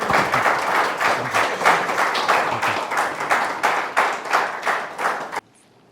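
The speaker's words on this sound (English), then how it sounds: "Big round of applause for you." An audience at a stage event claps in a dense, steady burst of applause for several seconds, then stops abruptly, leaving near silence.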